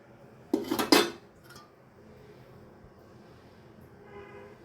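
A spoon or utensil clatters briefly against a bowl while an egg is worked into fried laccha semai vermicelli, a close burst of clinks lasting about half a second, followed by near silence.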